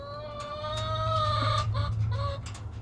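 Several hens cluck and squawk in agitation inside a coop, with rising drawn-out calls and short clucks, close and fairly loud over a low hum.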